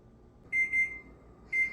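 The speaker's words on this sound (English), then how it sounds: "timer has gone off. I will shut that off." A kitchen timer alarm sounds during bread baking, with two short bursts of bright electronic beeping, then a pause and another beep burst, loud and close over a quiet room.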